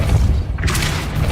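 A Depulso spell is cast in the Hogwarts Legacy video game: a single heavy boom, loud and close, over a low rumbling ground.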